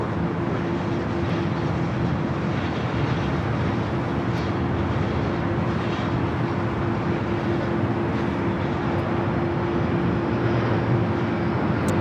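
Steady broad roar of a Boeing 757 jet on approach into LAX after a flight from Boston, a constant engine rumble with a faint whine holding for the full length, no voices.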